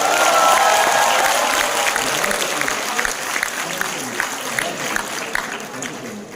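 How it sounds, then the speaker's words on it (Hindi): Audience applause at a live poetry performance in Al Hamra Hall, Lahore: a broad wash of clapping from a hall crowd that begins fuller and slowly thins, with scattered sharper claps standing out near the end. "तालियां होनी चाहिए"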